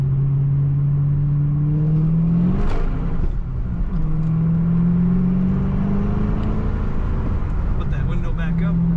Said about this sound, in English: Very nice exhaust sound too.